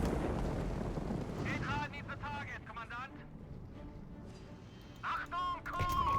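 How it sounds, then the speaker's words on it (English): Artillery shells pound a machine gun nest in the war game Company of Heroes 3 as distant, rumbling booms and crackling debris play beneath a commentator's voice. "Bombarding the machine gun nest here"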